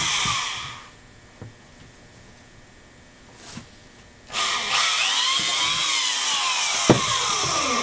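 A power drill bores a hole through a pottery bat: a quiet stretch with a few knocks, then a loud whining drilling sound begins partway through and continues with a rising, shifting pitch.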